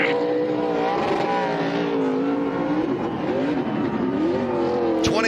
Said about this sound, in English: John Hunter Nemechek burning it down